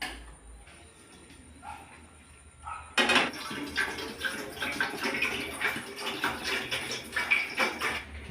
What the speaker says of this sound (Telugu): గిన్నెలో నీళ్ళు పోసుకోవాలి ఇలాగా